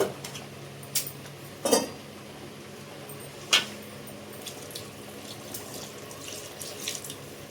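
Water is poured into a simmering Andhra fish curry: a soft, steady watery wash with a few brief splashes and clinks, close by and fairly faint, with no talk.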